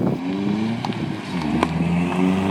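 A car engine drones and revs steadily in a parking lot during a drift attempt, with short sharp transients near the middle, continuous and fairly close throughout.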